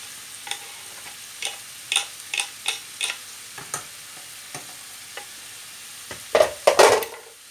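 Chopped onion hits a hot pan for stuffed aubergines, followed by a series of light, evenly spaced spoon taps and stirring clinks over a faint sizzle, ending in a louder cluster of scraping stirs.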